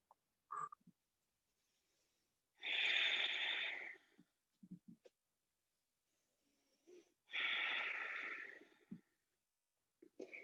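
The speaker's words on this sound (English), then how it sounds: "Deep breaths, 4-count inhales and exhales." Two long, breathy exhales with faint wheezy texture, a few seconds apart, during a yoga flow held in Warrior 2 with slow four-count breathing, soft and close with small quiet noises between them.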